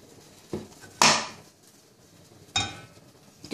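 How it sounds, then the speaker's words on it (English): A shallow non-stick frying pan set out for frying an egg, giving a few sharp metallic clanks and knocks, close and fairly loud, with quiet gaps between them. "Take a shallow non-stick pan"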